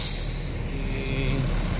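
Intercity bus from Denpasar arriving at Kampung Rambutan bus terminal in Jakarta, a loud, sustained hiss of air brakes over a deep rumbling diesel engine, close and continuous.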